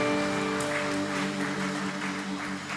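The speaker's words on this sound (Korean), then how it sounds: "영광을 이루신 하나님께 영광의 박수 돌려드리겠습니다" Applause in a church congregation during Sunday worship, a soft steady patter of clapping over a sustained organ or keyboard chord.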